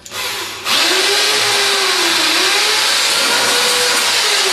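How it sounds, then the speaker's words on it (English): A power drill bores straight through three stacked cut panels during panel repair, one steady loud whining run that rises and wavers in pitch after a short start. "So I'm going to drill through there."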